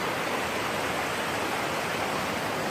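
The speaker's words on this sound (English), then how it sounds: "We're at a creek." Muddy Fork Creek on the Pacific Crest Trail in Washington rushes in a steady, loud, broadband roar of flowing water, continuous and close, with no voices.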